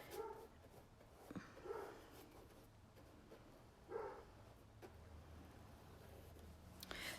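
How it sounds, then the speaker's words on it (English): A dog barks faintly from another room in a few separate bursts, spaced seconds apart over quiet background noise with no talk. "And that's my dog Scout barking away."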